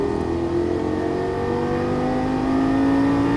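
A Lamborghini Gallardo LP-550 accelerates out of a corner on track, its engine note rising steadily and loud, close to the listener, with no talk over it.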